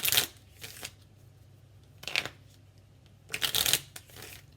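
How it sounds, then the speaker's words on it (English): A deck of tarot cards is riffled and shuffled by hand in three quick, close bursts of crisp flapping with quiet pauses between them. "I'm gonna shuffle a little bit here"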